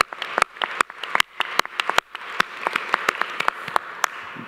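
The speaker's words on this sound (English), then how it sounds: "I think if you can join me to make one more applause for all these persons" A sparse round of applause at a food security conference, with distinct individual claps from a small crowd, fairly close and crisp, ragged rather than a dense roar.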